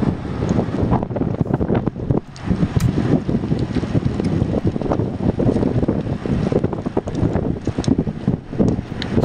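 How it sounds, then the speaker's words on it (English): Steady, roaring wind buffets the microphone throughout a group road cycling ride in an echelon, with a crosswind from the right and a headwind, loud and continuous with no voices. "So the wind's coming from the right."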